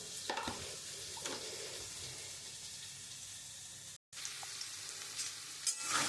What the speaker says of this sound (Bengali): আমি ঢ্যাঁড়সগুলো একটু দিয়ে দেবো, আমি একটু হালকা ভেজে নেব।